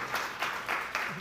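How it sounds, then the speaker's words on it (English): Audience applause at a panel event on athletes and climate action, heard as faint, hissy bursts of clapping that swell and fade at a steady pulse for a little over a second. "Round of applause."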